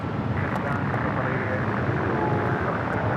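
Jet airliner, a Japan Airlines A350-1000 departing Los Angeles airport, a steady broadband roar that holds for the whole clip with some wind buffeting, no clear beginning or end to the noise.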